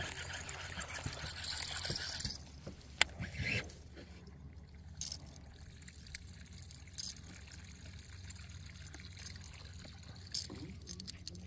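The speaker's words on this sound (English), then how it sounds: "I heard a beaver slap its tail on the water" A beaver slaps its tail on the water outdoors in fall: one sharp, fairly distant splash stands out over steady ambient rustle and low background noise.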